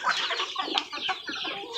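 Several chickens cluck and squawk in short bursts, close by and fairly faint, with overlapping calls and no speech.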